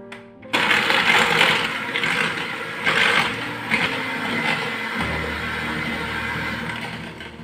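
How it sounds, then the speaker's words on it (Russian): An electric hand mixer whips cane sugar and eggs, starting abruptly with a steady, loud whirring buzz that holds with slight pitch shifts and a small change in tone near the end. "Взбиваю миксером до пышной массы."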